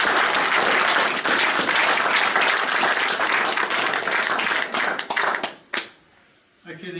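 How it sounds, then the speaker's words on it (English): A class-of-1962 high school reunion crowd gives a big round of applause, loud dense clapping that runs for several seconds before tapering off into scattered claps and a brief spoken voice. "I think we must give ourselves a massive round of applause."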